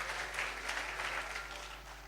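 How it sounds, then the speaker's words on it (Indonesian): A church congregation at a healing service claps together in praise of Jesus, a soft, somewhat distant patter of applause over a low steady hum. "Boleh tepuk tangan sama-sama buat Tuhan Yesus"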